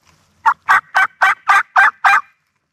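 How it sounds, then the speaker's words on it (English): Wild turkey gobbling on public land in Idaho, a loud close rapid burst of seven evenly spaced gobbling notes, alone and clear. "I get a shock gobble from birds down the hill from me"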